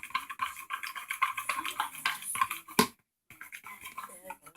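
A fork scrapes and clicks steadily against a container while green dye is stirred into slime, close and fairly loud, with a brief silent gap near the end before the scraping resumes.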